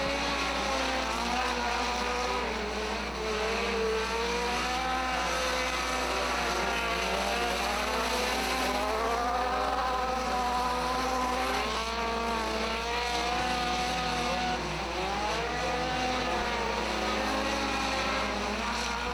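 Front-wheel-drive race cars circle Hattiesburg Speedway in a tight three-car battle, their engines a loud, continuous, overlapping drone that rises and falls as they pass. No voices are heard.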